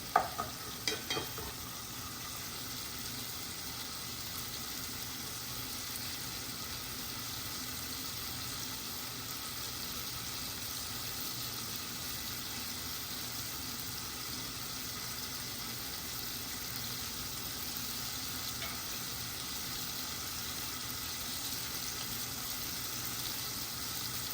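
Steady, continuous sizzling and crackling of a Gujarati dal tempering in oil in a pan, with a few brief stirring clinks at the start, no talking.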